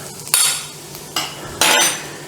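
A sauce of ketchup and onion powder being stirred in a bowl, three quick loud scraping swirls of a spoon close by, separated by short pauses.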